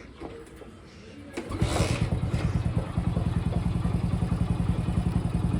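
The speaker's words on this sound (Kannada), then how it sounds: "ಗಾಡಿ ಏನೋ ಸ್ಟಾರ್ಟ್ ಆಯಿತು" A motorcycle engine cranks and catches, then settles into a steady, close, throbbing idle with a rapid even pulse. A voice is faintly present.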